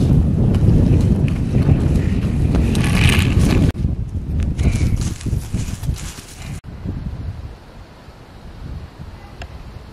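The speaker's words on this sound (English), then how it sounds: "it is super windy on the lake" Strong wind on a lake buffets the microphone in heavy gusts, easing somewhat toward the end, with a faint rustle behind it.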